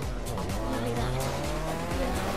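A car drifting in the racing game The Crew, its tires squealing loudly and continuously over a steady, droning engine for the whole stretch.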